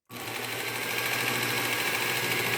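A Work Sharp Ken Onion belt sharpener with a Cubitron 120 belt grinds a hatchet edge at about 25 degrees, a steady close-up whine and abrasive rasp starting abruptly and running continuously, with no talking.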